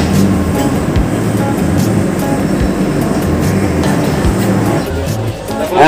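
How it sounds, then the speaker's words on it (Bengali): An overnight Yesvantpur–Howrah express stands at Palasa station, with a loud, steady rumble of idling rail machinery and platform bustle and a few soft knocks, without clear speech. "পালাসা স্টেশনে ট্রেন কিছুক্ষণ দাঁড়ায়, তো সবাই মোটামুটি নেমেছে।"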